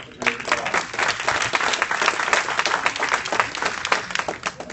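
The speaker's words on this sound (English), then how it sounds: "just give our panel another round of applause" A seated audience at a community meeting gives the panel a round of applause, dense steady clapping from many hands filling the room from start to finish.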